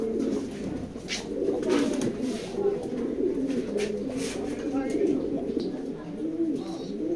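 A racing pigeon coos in low, steady murmurs while someone holds it, with brief wing flutters and people talking over it throughout.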